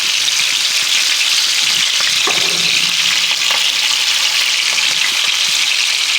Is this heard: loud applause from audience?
no